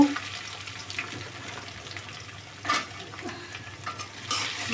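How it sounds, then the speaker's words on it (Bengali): Chopped onion and spices frying in a pan while being stirred, a quiet sizzle with a few soft scraping strokes, faint and close. "একটু ভেজে নেব মশলাগুলো লাল লাল করে ভেজে নেবো"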